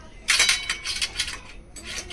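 A spoon clinks against metal dishes and plates at a meal, in a few quick bright rattles. The clatter pauses briefly, then resumes close by.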